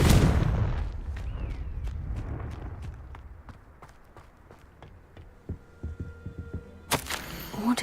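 A Confringo fire blast spell cast in Hogwarts Legacy, a sharp burst followed by a string of rapid crackling impacts, then a bright whooshing flare near the end, with no talk.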